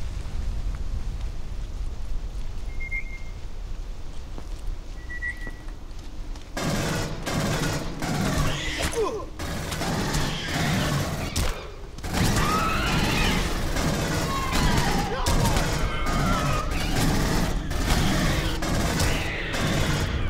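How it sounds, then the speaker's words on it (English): Rapid pistol fire in the sci-fi shooter game Aliens: Colonial Marines: a fast-repeating sidearm with low recoil. A quiet stretch gives way to a loud, dense run of quick shots mixed with game ambience. "Gorman's pistol, not the greatest in the world, but it certainly has a fast repeat rate with low recoil"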